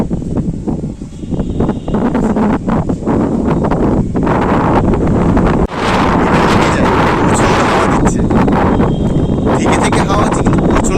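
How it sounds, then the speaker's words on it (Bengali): Strong gusting wind ahead of Cyclone Remal buffets the microphone in a loud, continuous roar with rustling and rattling, and a person talks over it. "এখন সকাল দশটা বাজে এরকম হাওয়া হচ্ছে"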